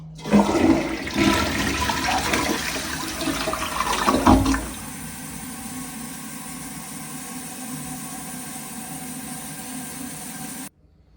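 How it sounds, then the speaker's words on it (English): A newly installed Glacier Bay power flush toilet flushes with a loud, rushing gurgle for about four seconds, then settles into a steady, quieter hiss as the tank refills. "First flushes will be a little underwhelming."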